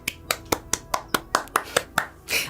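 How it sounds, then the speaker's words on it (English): Applause sound effect of close hand claps: about ten crisp, evenly spaced claps at a steady, fairly quick rhythm, ending in a short, softer burst, with nothing else behind them. "Applause."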